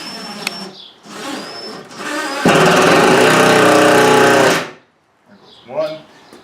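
A power driver runs a screw in, whirring loudly for about two seconds at close range, with someone talking before and after it.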